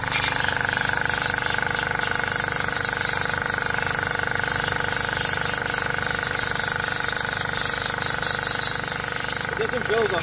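A small, noisy air compressor runs with a steady continuous air feed, a loud close hum with a buzzing tone and airy hiss that holds constant throughout.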